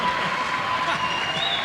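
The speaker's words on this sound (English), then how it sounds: "And that gets the crowd going" Basketball crowd in a high school gym applauding and cheering after a slam dunk during a boys' game, a dense, steady wash of clapping and voices that holds at full volume throughout.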